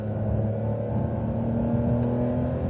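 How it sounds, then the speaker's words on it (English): A 2009 Ferrari 599 GTB Fiorano V12 engine running in race mode on a road, a steady droning rumble with a low hum and slight rise, heard from inside the car with no talk. "I'm going to flick it now from sport to race mode and see how it sounds."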